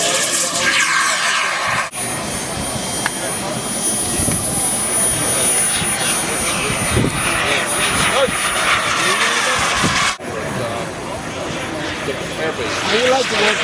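A P-34C aircraft makes a flyby with a loud, sustained engine roar that swells and sweeps through, with people talking over it.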